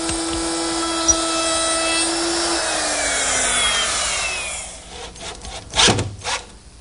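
A router fitted with a 1/4 inch radius quarter round bit whines steadily as it cuts along a wooden edge, loud and close, then the motor winds down and a few knocks follow.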